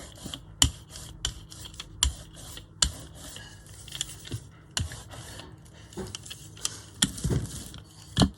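Paint being rubbed off a gel printing plate gives soft scraping and rubbing strokes, close and fairly quiet, with intermittent sharp taps and clicks at an irregular rhythm.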